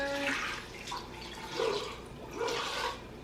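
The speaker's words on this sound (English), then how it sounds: "Add some water." Water pours into an Instant Pot over peeled, halved sweet potatoes in a few short, soft splashing bursts, heard close up and fairly quiet.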